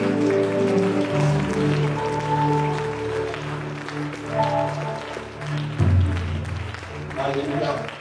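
A church congregation at a French-language worship service claps and cheers together in a loud, sustained crowd wash, with voices shouting over the applause throughout.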